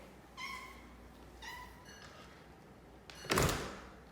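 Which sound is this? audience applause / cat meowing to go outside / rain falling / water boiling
cat meowing to go outside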